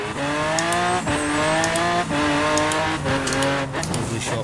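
A 1200 bhp Lamborghini Aventador in a racing video game, its engine revving hard and climbing in pitch, then dropping sharply at each gear shift, about four quick upshifts in a row, loud and close.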